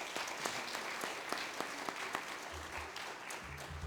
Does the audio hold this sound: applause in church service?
yes